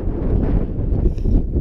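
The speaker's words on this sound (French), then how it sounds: "Il y a du vent." Strong wind blowing across a narrow mountain ridge above Grenoble during the UT4M trail race, a loud continuous buffeting roar hitting the microphone with no talk.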